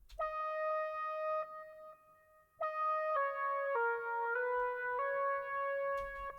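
With no effects applied, a dry synth lead plays clean, sustained notes in a stepped melodic phrase, with bright harmonics, brief gaps between phrases and no voice.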